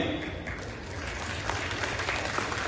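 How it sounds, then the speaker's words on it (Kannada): An audience claps at K. S. Eshwarappa's 77th birthday celebration, steady sustained applause from a crowd filling the room, fairly loud and even throughout. "ನೀವು ಚಪ್ಪಾಳೆ ತಡ್ತೀರಾ"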